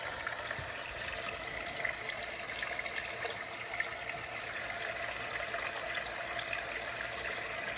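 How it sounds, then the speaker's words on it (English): Coolant with trapped air bubbling and gurgling in a Supra's intercooler coolant system, a steady faint watery trickle and churn running continuously with no talk. "normally it wouldn't make that bubbling sound"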